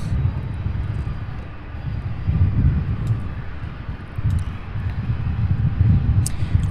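A UPS heavy freighter aircraft taxiing at SDF airport makes a loud, continuous low engine rumble that swells and eases slightly, heard from fairly close by with no talk.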